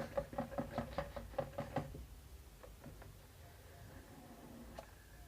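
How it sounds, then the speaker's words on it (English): A Mi Band 2 being popped out of its plastic packaging gives a quick run of close, crisp plastic clicks and crackles, then softer handling rustle that fades out. "So let's pop this out."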